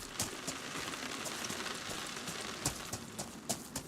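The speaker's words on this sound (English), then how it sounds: "Oh, it's like you hear the rooftop pitter patter" Rain pattering on a rooftop in a survival video game, a steady dense hiss with scattered louder drops tapping irregularly, close and continuous without talk.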